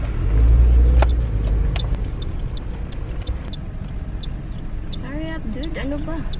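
Car driving slowly in search of a parking spot, with a low engine rumble that swells early and then stays steady, ticking sounds, and people talking and exclaiming throughout.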